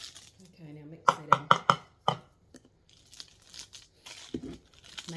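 M&M cookie dough is worked in a bowl, with a quick burst of sharp knocks and crinkly crunching early on, then softer scraping and scattered taps, close by.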